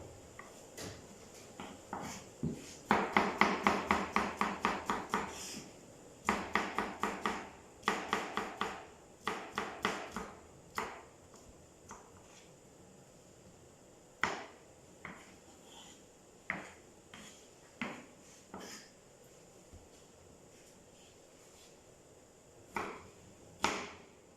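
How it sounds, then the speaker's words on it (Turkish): A knife chops cucumbers on a cutting board in a culinary school kitchen, with bursts of quick, crisp, evenly spaced cuts that slow to single sparse strokes, close and clear with no talk. "sizlerin de daha net görebilmesi için yavaş yavaş doğrayacağım"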